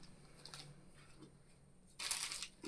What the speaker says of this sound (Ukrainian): Розбили пакет, він вступає в реакцію і починає охолоджувати